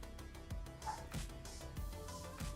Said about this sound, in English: Can you guys hear the dog barking?